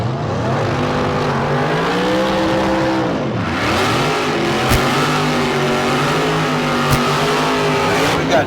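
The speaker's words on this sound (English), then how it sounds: "Getting a big burnout going on the right side of the racetrack" At the Street Car Super Nationals in Las Vegas, a drag racing car does a big burnout on the track: loud, sustained engine roar with wavering revs, tire noise, and a few sharp cracks.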